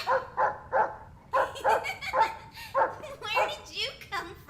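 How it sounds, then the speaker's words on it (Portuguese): A bird character in the video game Catghost barks like a small dog, giving a rapid series of short, clear yips and woofs, close and fairly loud, ending in a whiny whimper. "Um pássaro que late."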